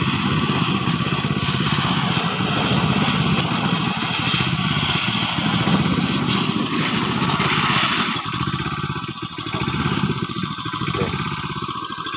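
A loud small engine runs continuously nearby, a rough buzzing drone that dips slightly in pitch and intensity partway through.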